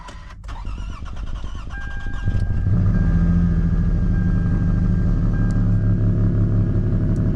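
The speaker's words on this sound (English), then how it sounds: "Let's see if this thing will start." A car engine cranks briefly, then catches and settles into a steady, loud idle rumble.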